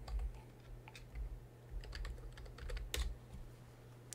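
Quiet keystrokes on a computer keyboard as a folder name is entered, an irregular run of light clicks over a steady low hum, with no talking.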